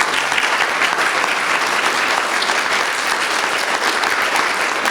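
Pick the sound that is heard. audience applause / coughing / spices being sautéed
audience applause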